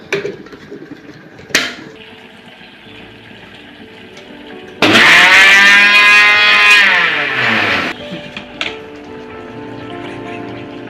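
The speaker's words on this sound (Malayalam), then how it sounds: "ഒന്നും കൂടി അരക്കണം." A mixer grinder blends coconut paste with curd for a Kerala-style ash gourd buttermilk curry, roaring loudly for about three seconds before winding down, with a few clinks and knocks around it.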